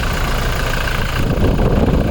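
A 2020 Toyota Innova Crysta 2.4 Z diesel with about 70,000 km runs at a steady idle, a loud, close, even engine rumble filling the whole stretch with no talk.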